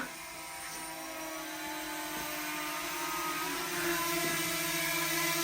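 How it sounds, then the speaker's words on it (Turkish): A small drone flies nearby outdoors in Iceland as it is brought in to land, giving a steady, buzzing whine that grows slightly louder and closer. "Drone'u buraya sokup burada indirmeye çalışıyor."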